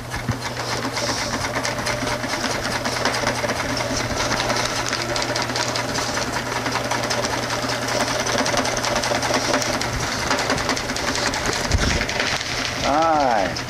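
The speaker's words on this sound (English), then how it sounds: "let me continue sewing" A sewing machine hums loudly and continuously while stitching a tuna cooler fish bag, with a person talking over it and a few bird-like coos faintly mixed in near the end.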